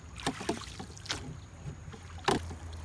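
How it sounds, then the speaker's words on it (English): Oars working a small dinghy on open water, with several soft splashing strokes spaced irregularly and a light wind rumble throughout, fairly close and moderately quiet. "It's an easy dinghy to row, all in all."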